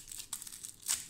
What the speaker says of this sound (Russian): пакетик порвем.